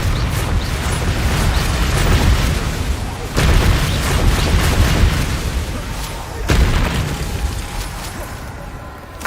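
The Bombarda blasting spell in Hogwarts Legacy lands as heavy booming bursts in a thick, roaring game soundscape, with sharp louder hits around the third and sixth seconds and speech mixed in.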